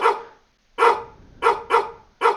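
Angry dogs bark in the video game No Ones' No Where, giving five loud, close barks in uneven bursts separated by short pauses, with no talking.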